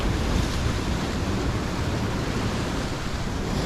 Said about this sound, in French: la mer devrait se calmer après